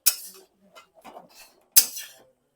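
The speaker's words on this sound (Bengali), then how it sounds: "এগুলোকে মাখিয়ে নেবো এই খুন্তির সাহায্যে।" A metal spatula works a mashed jackfruit and boiled potato cutlet mixture in a kadai, giving two sharp metallic clanks with soft scraping and stirring between them, close and clear.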